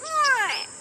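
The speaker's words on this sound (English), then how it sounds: "That's a gray go-away bird." A single harsh, nasal call from a grey go-away bird, a drawn-out descending cry lasting under a second, heard close and alone.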